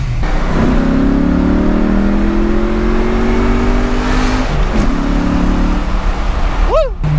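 A 1993 Mustang Cobra accelerates hard, its loud, close engine note climbing steadily through a gear before a short shift break and another pull, ending with a quick high squeal or chirp.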